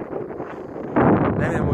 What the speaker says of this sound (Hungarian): mert fúj a szél, itt a öböl vége